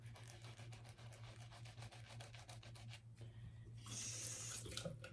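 Water runs steadily from a tap, with faint rubbing or scrubbing, then the flow turns brighter and splashier toward the end.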